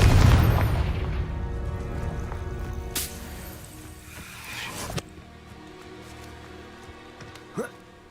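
Confringo, a fire spell in the Hogwarts Legacy video game, sets off a loud boom that rumbles out and decays, followed by sharper cracks and quieter game sounds, with a voice speaking briefly.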